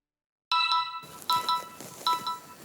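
Phone ringtone chiming in repeated bright melodic bursts after a moment of silence, close and fairly loud, alone without speech.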